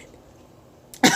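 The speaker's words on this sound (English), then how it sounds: "As I cough." A single sharp cough bursts out near the end after a quiet stretch, close and loud.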